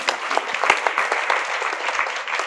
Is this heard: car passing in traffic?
no